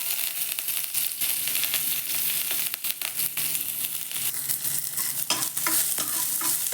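Chopped onions and curry leaves sizzle and fry in hot oil in a pan while being stirred, giving a steady crackling hiss broken by scraping and stirring noises, with no talking.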